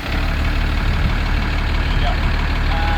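An old truck engine, started with a push button, runs with a loud, steady low rumble close by that holds without a break for the whole stretch.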